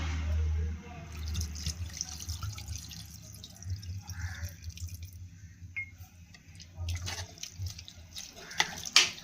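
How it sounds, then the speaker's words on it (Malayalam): Water trickles and splashes into a pan of cooking squid, a close running pour with drips and a few clinks toward the end. "എന്നിട്ട് വേകാൻ ആവശ്യത്തിന് വെള്ളം ഒഴിച്ചു കൊടുക്കാം കേട്ടോ."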